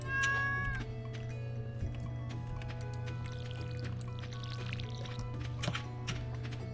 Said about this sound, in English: Why do I hear the cat meowing?